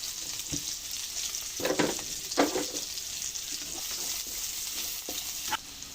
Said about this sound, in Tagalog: Lagay na natin ang ating sibuyas. Ating bawang.